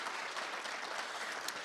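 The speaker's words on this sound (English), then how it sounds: "big, big round of applause" An audience at a national ICT summit claps for the Honorable Minister: a dense, continuous wash of many hands at even loudness. It sounds like a hall crowd heard from a middle distance, with no voices over it.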